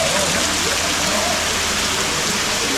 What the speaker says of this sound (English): We're done with the waterfall.